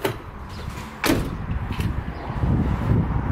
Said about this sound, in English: And the doors opened.